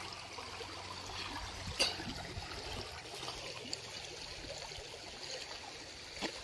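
A river flows steadily with a soft, continuous rushing and trickling, fairly faint and even, with a few small knocks over the water and no talking.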